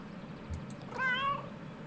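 A single short cat meow from the video game Kentucky Route Zero, with a rising, questioning tone, clear and close over a low steady background hum.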